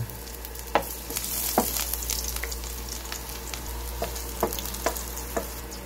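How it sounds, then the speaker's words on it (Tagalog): Garlic and onion sautéing in a pan, a steady close sizzle with a few sharp scrapes of a spatula stirring at irregular intervals, no voices. "Gigisahin lang natin ang pangunahing sangkap gaya ng bawang,"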